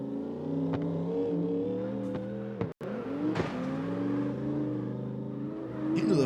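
Two race cars geared very low launch at a St. Petersburg street race start, their engines roaring loudly and climbing in pitch together, with a brief cut and then renewed close acceleration.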